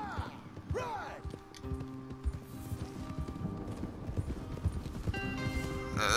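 A horse gallops in the video game Red Dead Redemption 2, with steady rhythmic hoofbeats throughout, a whinny near the start, game music and voices layered over the riding.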